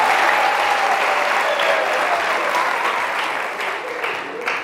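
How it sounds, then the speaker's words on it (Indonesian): Sustained audience applause at a talk for youth and students, dense and steady clapping filling the whole stretch, loud throughout and easing slightly toward the end. "Tepuk tangan untuk dia dulu"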